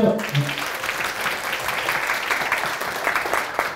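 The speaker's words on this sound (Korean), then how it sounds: "박수 함께 해주시죠" An audience at a lecture welcomes the speaker with steady, dense applause that fills the room, with a voice briefly heard at the start.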